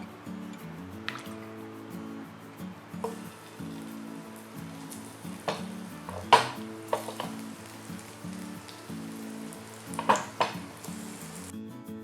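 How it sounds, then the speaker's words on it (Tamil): Marinated elephant yam pieces shallow-fry in oil in a pan with a faint, steady crackle. Scattered pops and clinks sound over soft background music with a repeating melody. "நம்ம ஷாலோ ஃப்ரை தான் பண்ண போகிறோம்."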